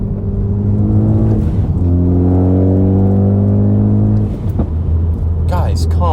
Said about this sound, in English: I can hear my blow-off valve more now, and I can actually hear my turbo spooling a little more now.